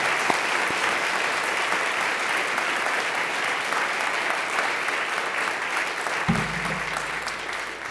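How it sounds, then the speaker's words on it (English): Sustained applause from a large audience at a university's annual state-of-the-university address, steady and dense for the whole stretch without talk over it. "Could we give them a round of applause?"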